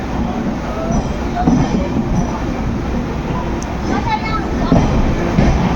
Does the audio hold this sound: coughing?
no